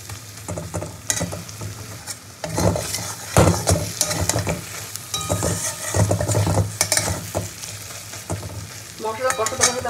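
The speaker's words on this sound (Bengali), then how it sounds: "মশলা কষাতে কষাতে হালকা একটু জল দেবো আমি, তাহলে তলায় আর ধরে যাবে না।" Pointed gourd sautéing with spices in a pan: a spatula scrapes and stirs in uneven strokes over a continuous hot sizzle, with occasional clinks against the metal, close up.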